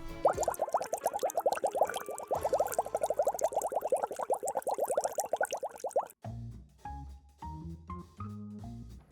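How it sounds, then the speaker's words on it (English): Dense, rapid popping of small bubbles in a liquid mixture before curing, steady for several seconds and then giving way to a few sparser, lower knocks and pops. "Here I am, popping bubbles."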